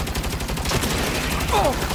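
Continuous gunfire in the action game Saints Row, a dense loud rattle of rapid shots running throughout with a brief voice near the end.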